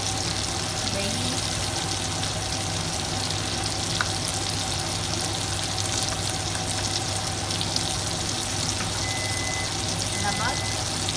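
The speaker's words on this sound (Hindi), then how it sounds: "इन सब चीज़ों को अब हमने भून लेना है" Spices, turmeric, chili, curd, salt and tomatoes fry for matar paneer with a steady, dense sizzle that runs unbroken from start to finish, while someone talks over it.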